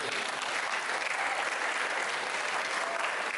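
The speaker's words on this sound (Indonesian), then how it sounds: "Tepuk tangan buat." A hall audience at an academic-year closing gathering breaks into steady, dense applause that holds evenly throughout, loud and full with no talking over it.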